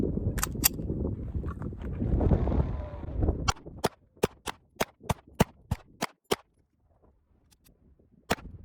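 Smith & Wesson M&P 2.0 Competitor pistol firing Herter's 115 grain ammunition, about a dozen sharp, loud shots in a fairly steady rhythm after a stretch of rumbling background, with one final shot after a pause.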